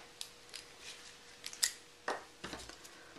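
Scissors snip through a length of black grosgrain ribbon being trimmed shorter for a cancer ribbon card, giving a few quick, close, crisp cuts spread over about three seconds in an otherwise quiet room.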